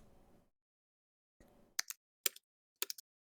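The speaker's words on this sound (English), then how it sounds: "We can all hear Charis typing" A few quick bursts of computer keys clack in three small clusters, faint and sharp against near silence, with a low murmur of background sound before them.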